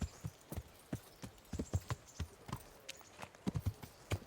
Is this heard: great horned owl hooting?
no